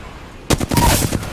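Gunfire in the video game Apex Legends crackles in a quick burst of loud, close shots over a second, with a faint voice underneath.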